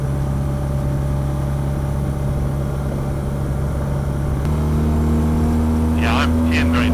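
A KTM 390 Duke or Honda CB300F single-cylinder motorcycle engine droning steadily while riding, then rising in pitch as the throttle opens wide near the end, loud and close with wind noise throughout.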